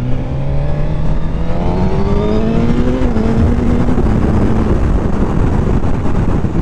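A Suzuki GSX-R1000R sport bike accelerates hard along a country road. The engine note climbs through rising gears, with a shift around the middle, under heavy rushing wind noise.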